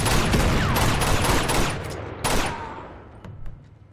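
Rapid bursts of gunfire in the video game Uncharted 2: Among Thieves ring out loudly and densely, then thin to a few scattered shots and echoing tails.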